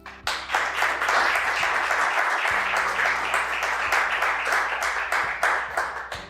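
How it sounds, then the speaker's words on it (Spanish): A youth conference crowd breaks into applause, a loud, continuous roar of clapping that rises quickly and holds for several seconds, with a low steady hum beneath it. "Un aplauso"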